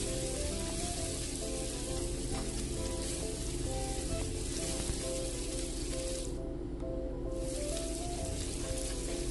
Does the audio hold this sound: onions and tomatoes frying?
yes